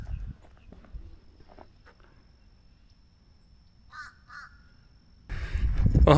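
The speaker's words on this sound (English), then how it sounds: "Crows are chasing a juvenile bald eagle up that tree." Crows chasing a juvenile bald eagle up a tree, a couple of distant harsh caws in the open air over faint rustling and footsteps, ending with a louder burst of wind or handling noise.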